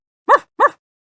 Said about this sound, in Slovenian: Pes je glasen.